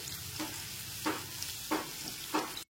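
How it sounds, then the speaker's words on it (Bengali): Crushed chopped garlic fries over a low flame with a soft, steady sizzle, and a utensil stirs through it in four regular scraping strokes before the sound cuts off abruptly. "রসুন কুচিটা একটুখানি খুব ভালো করে নাড়াচাড়া করে নিচ্ছি"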